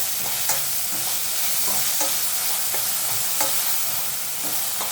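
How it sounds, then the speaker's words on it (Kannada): Tomato and onion fry in a pan with a steady bright sizzle, broken by repeated scraping stirs at a regular pace, close and fairly loud with no talking. "ಟೊಮೊಟೊ ಬೇಯಲಿ ಸ್ವಲ್ಪ."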